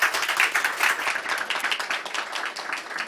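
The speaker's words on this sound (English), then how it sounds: "please give another round of applause to our panelists." A conference audience at a COP28 panel applauding the panelists, a full, steady wash of many hands clapping that holds for about three seconds, with faint voices under it.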